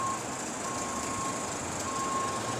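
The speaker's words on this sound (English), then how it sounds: "That beeping noise is audible noise, audible activity." A vehicle's reversing alarm near a Walgreens entrance sounds steady, evenly spaced electronic beeps over a constant broadband hiss of traffic or machinery.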